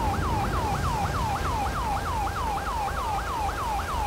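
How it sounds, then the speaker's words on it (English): A police car siren wails in a fast, repeating yelp pattern, loud and steady throughout, in GTA 5 with the LSPDFR police mod, over faint low road rumble. "Now I'll go kill my siren here real fast."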